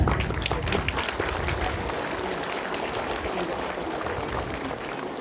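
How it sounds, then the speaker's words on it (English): Round of applause at a school ceremony honouring two teachers, a dense, steady wash of many hands clapping that continues evenly throughout, with faint voices mixed in. "let us give a round of applause to both of them"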